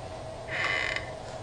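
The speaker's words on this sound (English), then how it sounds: "they just shut the door" A door shutting in the horror video game Outlast gives a short metallic creak and clunk over a steady hum of game ambience, with no voices.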